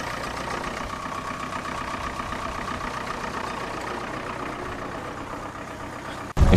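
A steady mid-pitched tractor engine drones at an even idle throughout during ploughing, ending in an abrupt loud knock.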